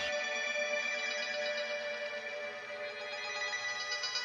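A phone rings with a steady, loud electronic ringtone that keeps going without a break. No one speaks over it.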